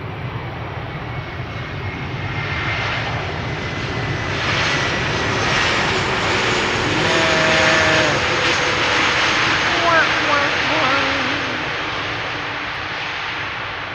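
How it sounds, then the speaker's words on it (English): An airliner landing at Amsterdam Schiphol with its thrust reversers, a loud broad jet roar that builds and swells to a peak in the middle, then slowly fades, heard from nearby on the ground. "Pull up those reversers, please."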